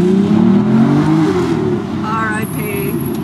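Aston Martin Virage engine revving loudly and steadily up close, a deep continuous roar throughout, with brief voices speaking over it.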